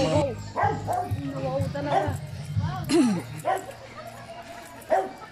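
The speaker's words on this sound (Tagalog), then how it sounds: "Buti pa yung aso, marunong magsabi ng wow." A dog at a zoo in Pansol yips and barks in short, whiny bursts, mixed with soft whimpers, close by, with people talking over it.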